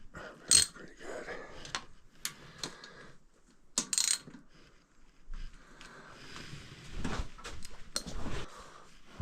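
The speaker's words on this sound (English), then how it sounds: "I'll just torque these ones." Torque wrench tightening bolts on a 1975 Honda XL250 motorcycle, giving a series of close mechanical ratchet clicks and metallic knocks, with irregular pauses between short bursts.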